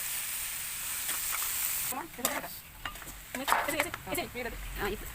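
Pumpkin pulp for pumpkin halva fries in a pan with a continuous soft sizzle, then a spoon stirs and scrapes it in irregular close strokes over the frying hiss, with no talk.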